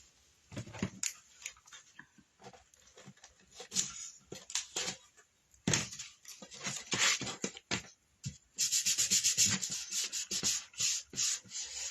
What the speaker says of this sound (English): I'm really rubbing this too to make sure that it is stuck to this hand